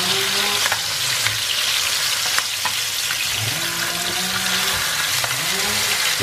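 Karimeen fish frying in a pan to half-cooked, giving a steady, dense sizzle of hot oil that runs continuously and close up, with faint scrapes and low tonal hums beneath and no talking.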